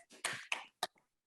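A classroom group claps the short 'tepuk fokus' rhythm, a few sharp, separate claps in a quick pattern, fairly faint, with no talk over them.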